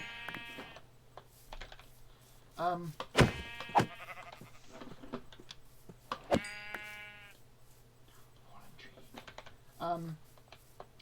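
Several wavering sheep bleats from a video game, spaced apart over quiet background with occasional keyboard clicks and thumps between them.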